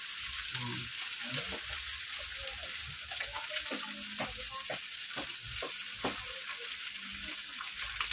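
Sauce poured into a hot pan being cooked in bulk for an office order, with a steady loud sizzle and frying hiss throughout and occasional stirring clatter, no talk.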